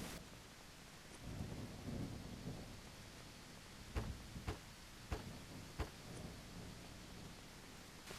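Video game rain hisses steadily while several sharp thunder-like cracks and rumbles break through, some close together, with no voices.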